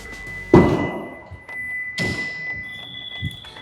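An MG M9 EV door swinging shut lands with a single solid thunk, followed by a softer second thud about a second and a half later and a faint closing knock near the end, against a steady high electronic tone.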